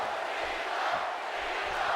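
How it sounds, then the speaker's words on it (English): A wrestling arena crowd in WWE 2K18 chants for John Cena as a steady, dense roar of massed voices that holds at an even level throughout. "Trying to drown out the count with Cena chants"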